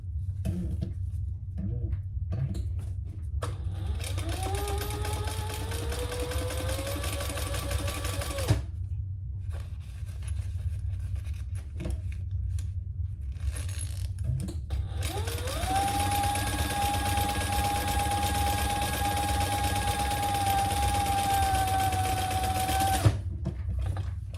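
A sewing machine stitches bag fabric in two runs with a quiet pause between them. The motor whines and rises in pitch as each run speeds up, over a steady low hum.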